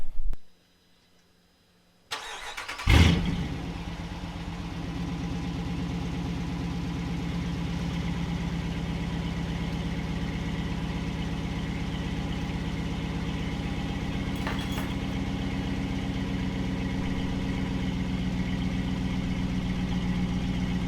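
After a short silence, a 2019 Dodge Durango R/T engine with straight pipes and no mufflers cranks and fires up with a loud burst, then settles into a steady, rumbling idle that continues throughout.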